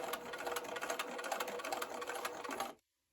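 A sewing machine stitching quilting fabric, a rapid steady whirring run of needle strokes, close and even, stopping abruptly just before the end.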